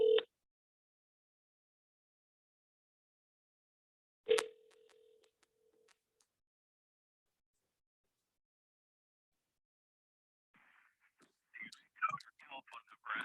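Telephone dialing while calling a business number: a brief tone, a short pause, then a longer steady tone, followed later by faint clicks and a soft voice on the line.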